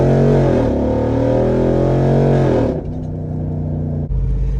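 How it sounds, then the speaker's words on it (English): A Jeep Rubicon 392 V8 revs hard in first gear and climbs through a couple of gears, a loud close engine roar with rising pitch, a break at the shift and a deep rumble after. "We'll start in first gear and just rip on it for a couple gears."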